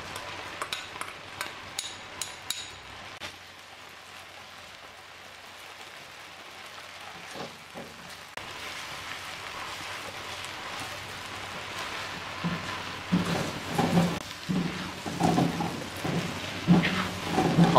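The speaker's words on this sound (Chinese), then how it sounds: "接着蒜末进来爆香" Minced garlic sizzles steadily in hot oil while being stir-fried for a claypot ginger chicken dish, a dense hiss that swells louder toward the end with faint stirring clatter.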